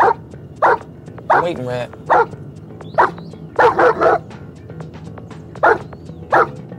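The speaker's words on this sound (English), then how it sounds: "it's a fucking dog, yo" A dog barks in short, sharp bursts spaced a second or so apart, loud and close, with someone speaking between and over the barks.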